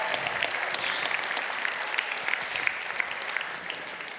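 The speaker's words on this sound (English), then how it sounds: "Let's give them a round of applause" Fashion show audience clapping: a dense, lively round of applause from many hands, close and even throughout, with no speech over it.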